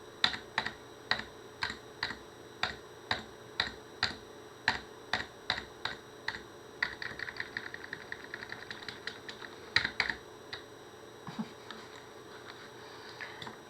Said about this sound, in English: holding down Alt on my keyboard and the full stop